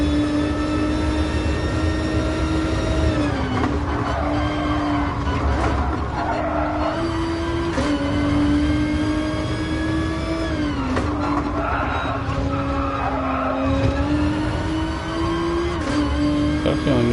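A Nissan GT-R race car in Gran Turismo Sport roars at high revs, its engine note rising and falling through gear changes as other cars run close alongside in the slipstream of an online race.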